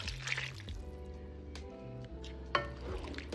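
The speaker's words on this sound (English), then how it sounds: "you're gonna add your coconut milk" Coconut milk and water being poured into a pot while preparing Jamaican steamed fish with okra, a soft close liquid drip and splash over low background hum, with a brief sharper knock near the end.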